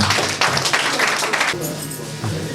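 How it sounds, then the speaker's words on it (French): A birthday party audience applauds loudly for about a second and a half, a dense burst of many hands that then cuts off and gives way to quieter room sound with a voice. "Je vous demande d'applaudir très fort, mesdames et messieurs."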